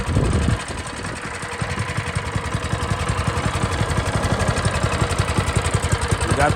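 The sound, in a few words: minibike engine running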